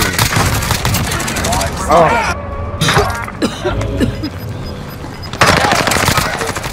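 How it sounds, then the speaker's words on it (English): Call of Duty: Warzone gunfire cracks out in loud rapid bursts with sharp impacts and short pauses, while a voice briefly exclaims partway through. "I was up on that building and saw that enemy shoot, so I shot back and I eliminated them"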